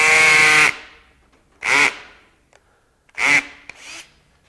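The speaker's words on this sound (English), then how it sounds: "see if we can't take this 1¼ inch bit through this 3½ inch thick" A Ridgid R96021 drill in speed 2 drives a 1¼ inch bit into 3½ inch thick wood stock in three short loud bursts of whining, grinding boring, each stopping abruptly and followed by near silence.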